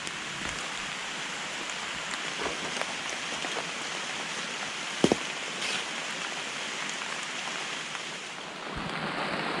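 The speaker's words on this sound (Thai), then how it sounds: "โอ้ฝนตกดีขนาดครับผม" Heavy rain pours steadily in a forest while wild mushrooms are being gathered, a dense unbroken hiss with occasional louder drops and knocks close by, and no talking.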